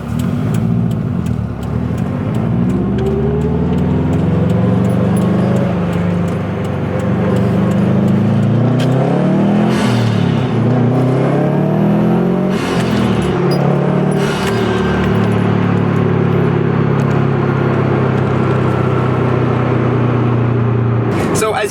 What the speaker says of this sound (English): As you can see, it is a little bit loud, like a little bit noisy in the cabin, but it makes all the right noises